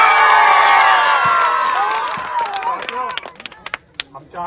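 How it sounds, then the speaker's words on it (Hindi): A rally crowd welcoming a candidate cheers and shouts loudly, strongest at the start, then thins into scattered whoops and claps toward the end, with voices mixed in. "हम चाहेंगे आप लोग जोरदार ताली बजा के इनका स्वागत।"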